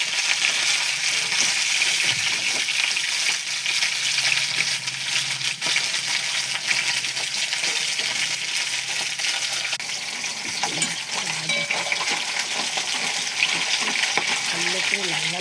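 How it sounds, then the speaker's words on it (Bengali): Fish frying in hot oil until deep reddish-brown: a continuous dense crackling sizzle holding steady throughout, with occasional clinks and stirring sounds. "ভালো করে লাল লাল করে মাছগুলো ভাজতে হবে।"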